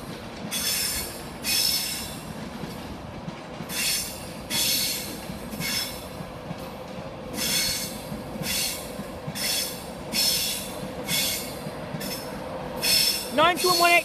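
Train in East Coast livery passing through Doncaster Station, a rhythmic series of loud bursts from wheels crossing rail joints, steady rumble beneath and a brief metallic squeal near the end.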